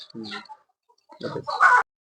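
Native country chickens at a farm shop give a few short, close clucks in two quick bursts separated by a brief quiet gap.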